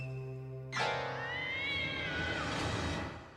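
A video game cat lets out a loud, drawn-out meow with a rising then falling pitch, heard close and alone over a low background hum from the game.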